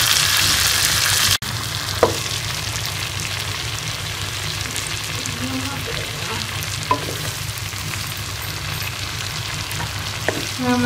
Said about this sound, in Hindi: हमारा चिकन फ्राई होगा,